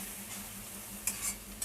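Ghugni spices of turmeric, cumin and coriander powder with a splash of water being stirred in a pan, a soft continuous sizzle with a couple of quick scraping strokes.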